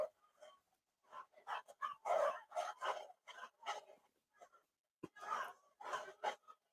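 Chihuahuas bark in the background in quick, high, yappy bursts, fairly faint and repeated across several seconds with short pauses between volleys.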